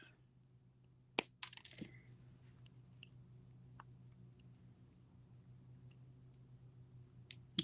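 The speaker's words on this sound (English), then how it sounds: "I'm going to come in with my cutter tool and trim off." A jewelry cutter tool snips wire beside a jump ring, one sharp, close click early on, then scattered faint ticks and small clicks in a quiet room.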